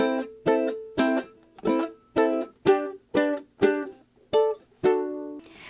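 Plucked ukulele notes rolling in a steady repeating pattern, each pluck ringing briefly before the next, close and clear with no voices.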